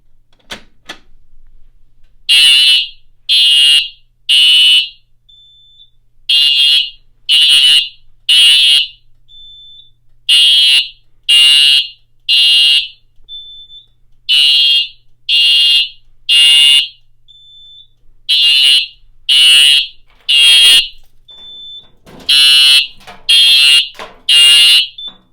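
A Simplex 4005 fire alarm system sounds during a test, blaring in loud, regular bursts of three tones followed by a brief gap, repeating steadily over and over.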